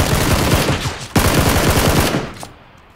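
An M16A4 rifle in PUBG fires a long, loud automatic burst of rapid cracks that pauses briefly, resumes and then tapers off near the end.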